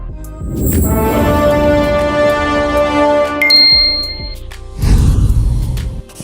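A notification bell rings out loud and clear, its bright ding lingering with a long decaying shimmer before a second, fuller chime strikes near the end.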